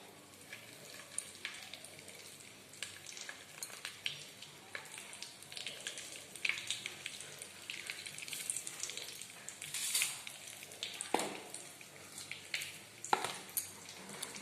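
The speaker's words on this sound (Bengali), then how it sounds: "এবার একটা একটা করে বেগুন ওই তেলে ছেড়ে দিতে হবে।" Eggplant pieces fry in hot oil in a pan, giving a soft, steady sizzle with faint crackles and a few clinks of a utensil, fairly quiet throughout.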